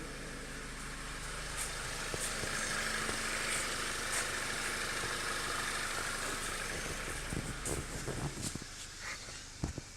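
A 2010 Audi A4 2.0T engine idles steadily after a cold start following an overnight sit, a close, continuous mid-pitched hum with faint mechanical ticking, easing slightly toward the end.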